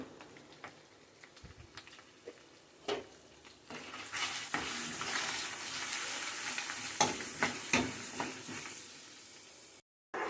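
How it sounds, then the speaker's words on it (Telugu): A pinch of asafoetida drops into hot tempering oil for a raw banana pickle and is stirred with the stove switched off, giving a steady sizzle with scraping stir clicks, close and continuous, with no talking. "ఇప్పుడు దాంట్లోకి ఈ మాత్రం ఇంగు వేస్తున్నానండి"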